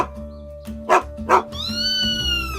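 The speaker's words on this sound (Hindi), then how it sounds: "कुछ दिन बाद एक कुत्ते ने बिल्ली को दौड़ाया" Two short, sharp dog barks ring out against a steady background hum, then a high sustained whine-like tone follows.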